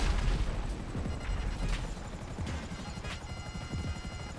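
Helicopter in GTA 5 Online, heard as a continuous rumbling rotor drone, fairly loud and steady throughout, with occasional sharper thuds mixed in.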